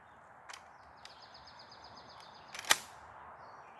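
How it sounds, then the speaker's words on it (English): Shells being loaded into a Lynx 12 AK semi-auto shotgun, heard as a few sharp, isolated metallic clicks with pauses between them and one louder snap near the end, over a quiet outdoor background. "let's load these guns up"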